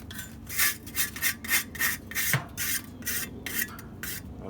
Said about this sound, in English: scrape all these flavorizer bars down